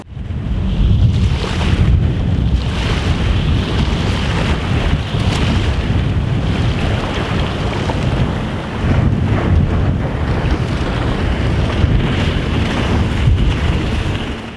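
A Quintrex Hornet Trophy 420 aluminium tinny with a Yamaha F40 four-stroke outboard runs across open water, the engine drone mixed with loud wind buffeting and splashing hull noise throughout.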